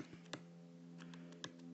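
Keys tapped on a computer keyboard in a few quiet, irregular clicks, close by, over a steady low hum.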